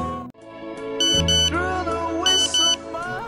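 Electronic cellphone beeps ring out in a radio drama, a repeating pattern of bright tonal bleeps in short bursts over steady background music, loud and close.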